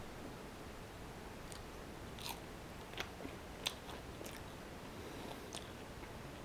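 Close, quiet chewing of Peruvian pasta in cream sauce, with soft wet mouth sounds and a few sharper crunchy bites scattered through a steady low background, no talking.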